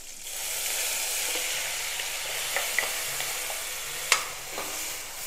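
Masala frying in a pan for butter bean kurma, a steady bright sizzle with scattered crackles and splatters and one sharp pop near the end, close and without talk.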